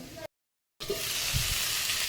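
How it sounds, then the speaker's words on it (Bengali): Potato slices with a little onion fry in a pan. After a short gap, a steady, close sizzle continues, with faint stirring underneath. "এখানে আলু ভাজা বসিয়ে দিয়েছি আজকে আলু ভাজার মধ্যে একটু সামান্য পেঁয়াজ দিয়েছি"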